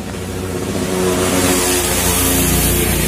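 A Honda Vario 150 scooter engine with an unstable idle and heavy pull runs steadily close by, its mid-pitched drone rising slightly in intensity, with no speech.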